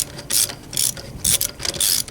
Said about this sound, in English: Make sure you flip the switch on your wrench